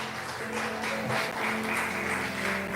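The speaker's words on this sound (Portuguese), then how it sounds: "Você pode aplaudir ao Senhor bem forte?" A church congregation claps for the Lord during a worship service, a steady dense wash of applause from a crowd that swells slightly and holds at moderate loudness throughout.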